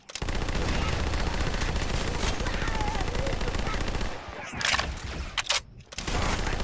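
Halo 2 SMG firing in a Halo mod video game, a loud sustained burst of rapid automatic gunfire lasting several seconds, then a few sharp shots and impacts before firing resumes.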